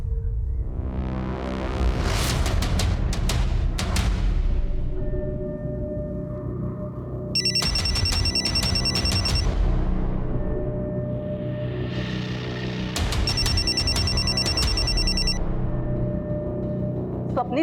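A telephone rings in two separate trilling bursts, each lasting a couple of seconds, over steady dramatic background music in a tense family drama scene.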